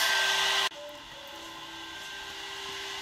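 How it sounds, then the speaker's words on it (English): An air-cooled CNC spindle runs steadily near a heat sink, a loud whirring drone with a high whine that drops abruptly in level under a second in, then continues as a steady hum. "you can also have idea how loud is the air cool spindle"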